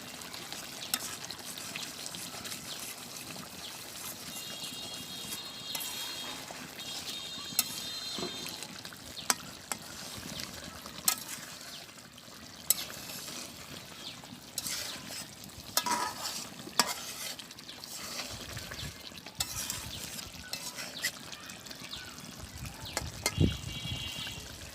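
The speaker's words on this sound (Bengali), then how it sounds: "দারুচিনি এবং গোলমরিচ বাটা আছে, আমি এটা মিশিয়ে দিই।" Fish bhuna being stirred in a pan after cinnamon and pepper paste is added, with steady scraping and stirring over a soft sizzle, close and continuous with brief louder clanks from the spoon.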